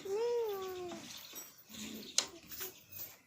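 A voice imitates a cat's meow with a rising-falling wail, followed by brief soft sounds and a small clink.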